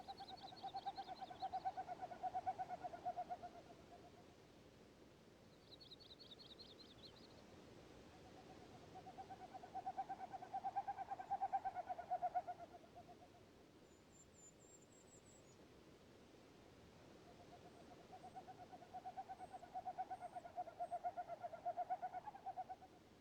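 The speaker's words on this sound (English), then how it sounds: "the winnowing of a common snipe, advertising his availability as a mate" Three faint, distant bouts of rapid, pulsing, hollow hooting from a winnowing snipe, each lasting a few seconds and separated by quiet pauses.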